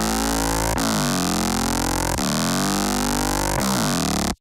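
Processed Reese neuro bass shaped with multiband compression and a bandpass filter, playing sustained, gritty, detuned bass notes in three loud phrases with sweeping, growling movement, alone with no talk.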